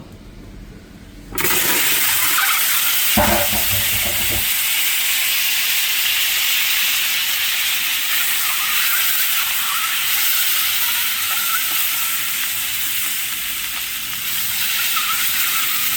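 An egg dropped into very hot oil in a pan sets off a sudden loud, sustained sizzle and hiss that carries on steadily and close by after a quieter start.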